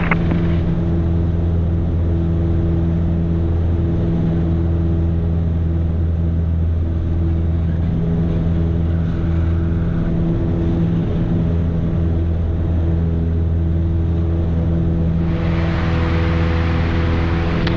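A light aircraft's engine drones loud and steady through a takeoff in a touch-and-go circuit at Gloucester, a constant propeller hum filling the cabin with no pause.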